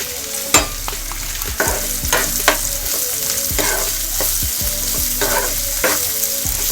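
Chopped onions sizzle and fry steadily in a hot pan for egg bhurji, with a continuous crackling hiss broken by regular scraping stirs of a spatula roughly every second.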